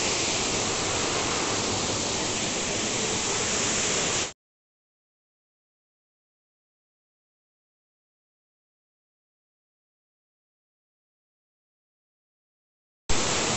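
Small waterfall at Rampa with low water flow, a steady broadband rush of falling water that cuts out for several seconds of silence mid-clip and then returns.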